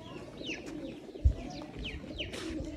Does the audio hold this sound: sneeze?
no